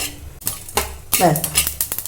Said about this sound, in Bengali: এই যে হালকা চিটচিট করছে এর মানেই মশলা কিন্তু হয়ে গেছে